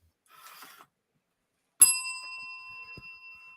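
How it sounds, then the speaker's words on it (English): A single bicycle-style bell rung once, sharp and close, its bright ring sustaining and slowly fading, after a brief faint rustle. "Where's my bell?"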